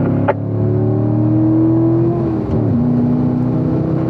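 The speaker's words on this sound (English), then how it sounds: "let's open it up to 4th gear" A Corvette on a racing-school track at Spring Mountain pulls hard in 4th gear down the back straightaway, its engine a loud, sustained drone that dips in pitch once near the end.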